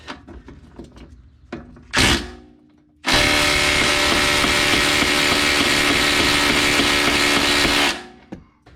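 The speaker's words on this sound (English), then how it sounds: "I like to start with a light duty impact." A light duty impact wrench works a subframe bolt on an Audi Q5: a few short clicks and a quick burst, then a loud, sustained hammering rattle lasting several seconds before it stops abruptly.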